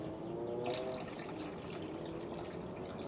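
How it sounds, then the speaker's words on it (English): Water is poured for pet rabbits, a continuous splashing, trickling stream that starts abruptly and runs steadily to the end, close and fairly quiet, with no talking. "Just give them some water now."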